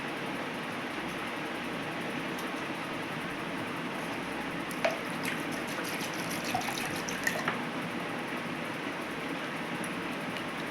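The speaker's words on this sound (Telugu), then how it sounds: "కొద్దిగా కూల్ వాటర్ వేసానండి" Cool water is poured into thick blended buttermilk for a spiced summer drink, giving a soft, steady liquid trickle that runs quietly and evenly, with a few light clinks partway through.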